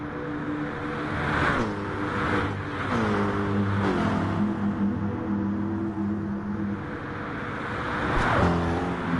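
A GT2 race car in GT Sport at the Nürburgring Nordschleife is driven at full throttle through a winding fast section, its engine loudly revving and climbing through several gear changes, steady and close, without talk.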